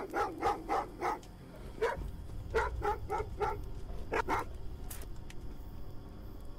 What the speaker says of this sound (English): This fucking dog trapped us.